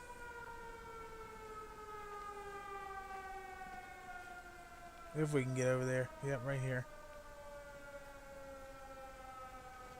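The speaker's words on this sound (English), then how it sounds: "So we're going to go right towards that siren." A wailing civil-defense-style siren in the video game Everybody's Gone to the Rapture, its sustained tones gliding slowly downward at moderate distance, with someone speaking briefly over it midway.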